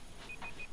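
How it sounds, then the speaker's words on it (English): A faint electronic timer beeps in a short, evenly spaced series of high tones, sounding alone in a quiet room. "our timer is up"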